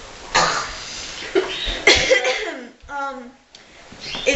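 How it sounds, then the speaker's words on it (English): A person coughs several times in harsh bursts, close to the listener, with a throat-clearing sound and a brief voiced sound between coughs. "sorry, class, for my coughing"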